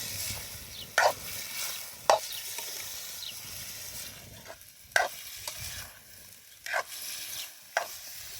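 Bitter gourd and sliced onion stirred in hot oil in a pan, with a soft steady sizzle broken by several sharp spatula scrapes and clinks at irregular intervals, close by and with no voices.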